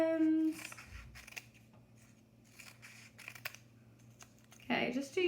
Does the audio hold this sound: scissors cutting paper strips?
yes